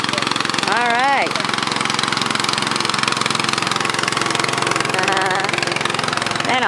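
A vintage tractor engine runs steadily and close by while someone rides it, a continuous throbbing drone that stays loud throughout, with a brief voice-like warble near the start.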